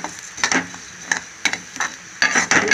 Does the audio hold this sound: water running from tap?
no